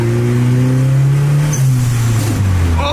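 A Honda Civic fastback with a crunchy manual transmission revs and drives, its engine note climbing and then dropping loudly around a rough shift into third gear.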